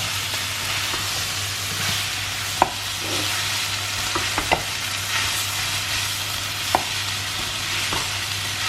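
Ridge gourd frying in a pan with a garlic, ginger and chili mixture gives a steady, close hiss for the whole stretch, with a low hum underneath, a few small clicks and knocks, and no voices.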